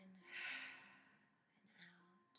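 A slow, audible breath drawn in through the nose and mouth during a guided meditation, a soft airy inhale swelling and fading over about a second, faint and close, with a quieter second breath following.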